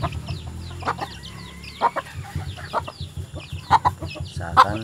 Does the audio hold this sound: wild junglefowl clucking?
yes